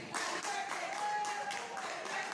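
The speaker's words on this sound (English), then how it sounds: "they sing, they do the clapping song" A group at a restaurant claps in steady rhythm for a birthday clapping song, about two claps per second, with voices singing along underneath.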